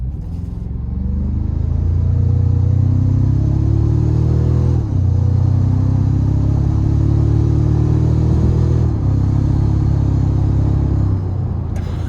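A 2026 Toyota Tacoma TrailHunter i-Force MAX in sport mode pulls hard from inside the cab, with a loud, continuous engine roar that climbs in pitch, briefly dips at two shift points, then climbs again, with snorkel intake noise audible.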